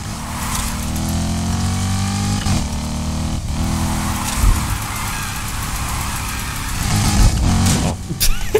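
Engine roar of a car in the video game NFS Heat as it drifts with the handbrake, a loud steady drone with rising revs and a brief squeal of tyres near the end, no talk.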